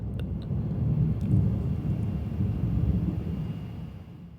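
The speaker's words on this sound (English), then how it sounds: "I paused for thunder." Thunder from a summer storm rolls as a long, deep, continuous rumble that swells and slowly fades over several seconds, heard alone without speech.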